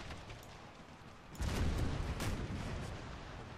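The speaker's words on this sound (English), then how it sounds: "Just hear the barrages coming in." Artillery barrages land in Empire: Total War with the American Civil War mod, a faint distant rumble that swells into a heavier booming burst midway and then rolls on more quietly.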